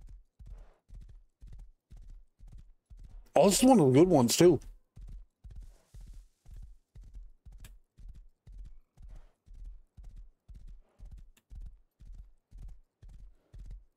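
Horse hooves clip-clop in a steady walking rhythm in the video game Rust, close and continuous for the whole stretch, briefly joined by a loud horse whinny and a voice talking over them.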